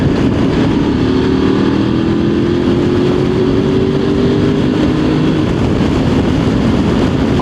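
A Voge 900DSX motorcycle engine pulls under throttle with a steady, rising drone, close and loud throughout, alone without talk.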